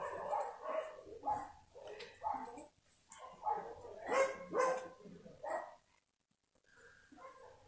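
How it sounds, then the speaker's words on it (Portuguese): Dogs bark in repeated short bursts, several yelps and barks close by and fairly loud, with a brief pause near the end before barking resumes. "Como toda a live, os cachorros têm que começar, né?"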